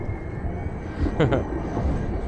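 A tram passes on Kraków's oldest tram route, a standard-gauge line, giving a steady, close rumble of wheels on rail with a brief voice in the mix.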